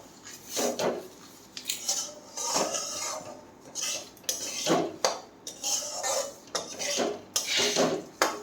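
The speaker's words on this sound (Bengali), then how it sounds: "চিনি দিয়েছি, দিয়ে একটু নাড়াচাড়া করছি" Sugar stirred in a metal wok with a utensil, repeated scraping and clinking strokes in an uneven rhythm, close and fairly loud, with no talk.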